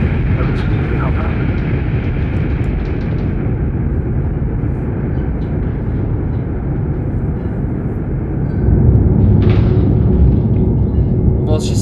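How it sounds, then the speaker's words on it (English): A spacecraft descending to land in the video game The Invincible, heard as a loud, steady low rumble of engines and wind that swells slightly near the end, with voices talking over it. "Oh, this is the memory of landing."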